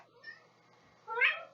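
A house cat meows once, fairly close and clear, after a stretch of quiet room tone, a short rising-and-falling cry near the end.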